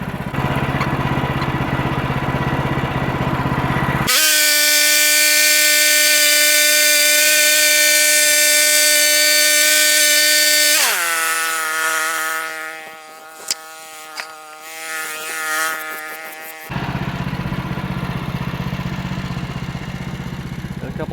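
A chainsaw slices a 1.5-inch slab off a log, roaring steadily at full throttle, then dropping in pitch as it bogs into the wood, with a few knocks and clicks before idling off.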